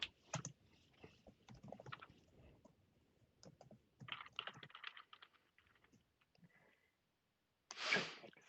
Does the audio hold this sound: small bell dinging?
no